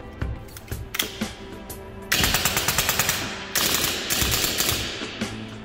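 A Milsig M79A2 Nerf-style AR-15 blaster rattles on full auto, loud bursts of rapid mechanical shots with brief pauses between strings, heard alone at close range.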